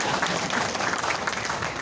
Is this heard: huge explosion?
no